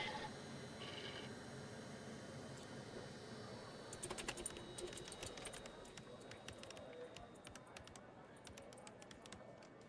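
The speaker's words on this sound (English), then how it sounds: "I tried typing in my own name" Rapid typing on a computer keyboard, quiet clicks that start sparse and become a dense, irregular clatter in the second half, under a low background hum with faint voice-like sounds.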